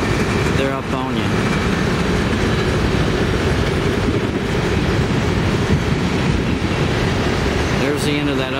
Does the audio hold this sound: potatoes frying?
no